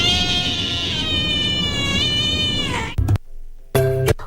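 Abandoned kittens meow loudly in a long drawn-out wail, then after a brief gap come short close mews, with no talk over them.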